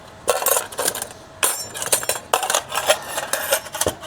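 Metal spoons and cutlery clink and rattle against each other while being sorted and packed for a van trip, with several bursts of bright jangling clatter close by and no talking.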